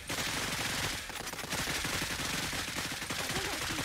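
Dense, continuous gunfire in the video game Cepheus Protocol, rapid overlapping automatic bursts and shots filling the whole stretch at a steady loud level with no talk.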